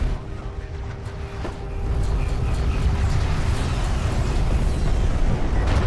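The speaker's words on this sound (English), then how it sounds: "I'm really just waiting for the cooldown on these attack missiles to finish. And then another volley will fire" A volley of attack missiles exploding in a strategy video game, a dense rumbling roar of blasts that swells louder about two seconds in and holds steady, with low booming bursts throughout.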